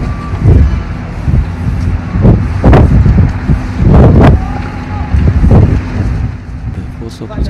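Tornado winds batter Duba in Saudi Arabia's Tabuk region, a rough, gusting roar buffeting the microphone in loud surges, with voices talking over it.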